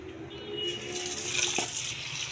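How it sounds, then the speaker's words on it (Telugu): Tap water runs steadily over grapes being washed in a sink, a continuous close splashing hiss with a brief clink partway through and no talking. "ఇది ట్యాప్ వాటర్ వేసి కడగాలి శుభ్రంగా."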